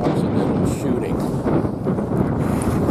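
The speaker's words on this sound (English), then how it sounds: "Oh, that wind is cold." Cold wind gusts roar steadily across the microphone outdoors in the Idaho mountains, a loud continuous low rumble that drowns out other detail.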